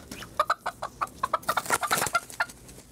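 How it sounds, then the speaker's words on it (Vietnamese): A chicken clucks in quick repeated bursts, close and fairly loud, as it is caught for a drinking feast set in a Vietnamese Tet comedy sketch. "Đến đây gà."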